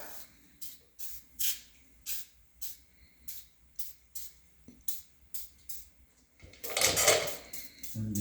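Oven cleaner sprayed in short repeated bursts onto a cast-iron Pontiac 261 six-cylinder engine block from a 1958 Pathfinder, about a dozen rhythmic close hisses, followed by a longer, louder spray at the end.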